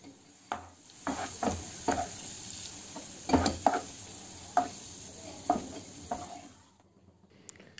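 Onions fry in oil toward golden brown for masala chicken, a low constant sizzle broken by a series of rhythmic spatula stirs and scrapes against the pan, close and without talk.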